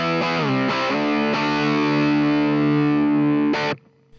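Heavily distorted electric guitar played straight through an amp with no cabinet simulation, several loud sustained chords struck in a punk rock style, ringing harsh and buzzy before cutting off abruptly near the end.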